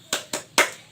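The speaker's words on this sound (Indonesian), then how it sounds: "mari kita tepuk semangat" Three sharp, evenly spaced claps from a group doing a rhythmic spirit clap, crisp and close, the last one slightly louder.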